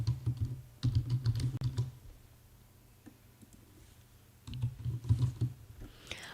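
Typing on a computer keyboard with mouse clicks, in two bursts of rapid keystrokes separated by a quieter pause, close and fairly soft, with no talking.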